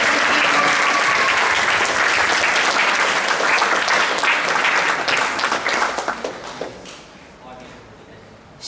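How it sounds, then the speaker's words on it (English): A crowd at a children's summer camp event claps loudly and steadily, then the applause tapers off and fades, with some cheering and voices mixed in. "Let's clap for Radhanti."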